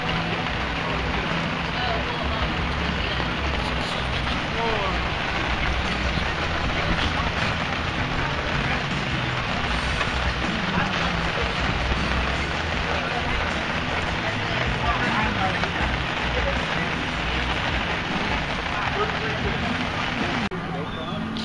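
A heavy downpour drums steadily outdoors, a continuous broadband wash of rain noise that stays even and loud for the whole stretch without pauses.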